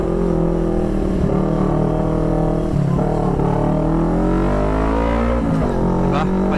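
A CF Moto NK400 V4 motorcycle engine revs loudly and steadily up close, its pitch climbing and dipping through several throttle blips, with no voices over it.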